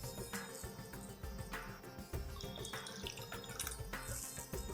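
Water is poured in small amounts from a spoon into flour while making dough, giving faint trickling and dripping sounds against light kitchen clatter.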